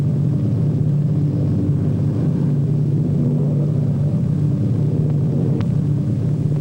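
A propeller airplane comes in to land at an airfield, its engine a steady, loud low drone that holds evenly throughout with no voices.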